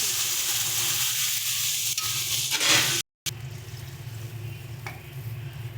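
Mustard paste frying in a pan for hilsa curry with raw banana and potato; a steady close sizzle with a few stirring scrapes, loud and continuous, no voices.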